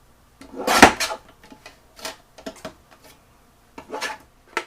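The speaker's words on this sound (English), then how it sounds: "I'm just going to very carefully position this on my guillotine, making sure that I follow that score line" A paper guillotine slices card along a score line, with a short scraping rub at the start and a few soft, brief scuffs after it, quiet and close, with no talking.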